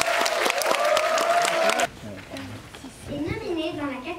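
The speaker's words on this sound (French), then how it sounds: "derniers applaudissements" Audience at a French school film festival ceremony in Stockholm applauding, a dense burst of clapping for about two seconds that cuts off, followed by someone speaking.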